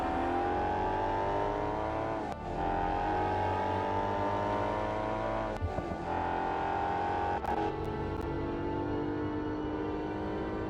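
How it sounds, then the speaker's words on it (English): A car engine revs in a racing video game, a loud sustained tonal drone with shifting pitch and a few sharp gear-change breaks, with no voices over it. "Listen to that engine, that's gorgeous."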